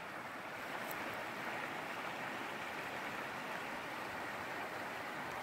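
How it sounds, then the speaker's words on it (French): Water rushes steadily at the outlet stream of Lac Morage in spring, a continuous broadband wash of flowing current heard up close with no talking and no breaks. "La décharge du lac Morage."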